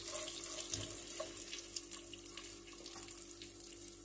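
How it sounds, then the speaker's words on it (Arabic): Hot water poured from a tap-like stream into a deep pot of melted caramel sugar, a continuous splashing rush with scattered small splashes and drips. "هون راح ننزل المي الساخن."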